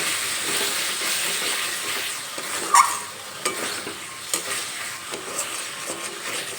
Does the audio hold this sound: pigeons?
no